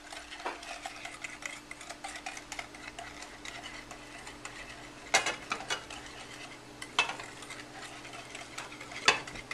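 Egg yolks and sugar stirred in a bowl set over steam, a soft continuous scraping whisk with occasional sharper clinks against the bowl, close and alone under a faint steady hum.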